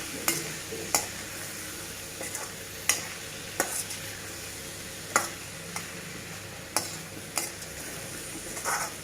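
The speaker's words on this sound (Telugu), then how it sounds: "కొంచెం వేగాలి" Brinjal curry frying in a pan gives a constant close sizzle, broken by about a dozen sharp scrapes and taps of a spatula against the pan at irregular intervals, with no talk.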